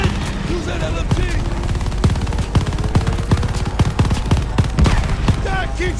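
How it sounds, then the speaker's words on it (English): LMG machine gun fire in the Call of Duty Vanguard game, loud sustained rapid bursts of heavy automatic gunfire with sharp repeated reports, mixed with battlefield noise and faint shouted voices. "Use that LMG!"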